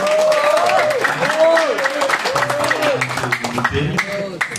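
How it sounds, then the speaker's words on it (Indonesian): Applause fills the hall at the final of a Quran quiz competition, steady crowd clapping heard beneath an announcer's voice, which keeps talking throughout. "Tepuk tangan yang meriah."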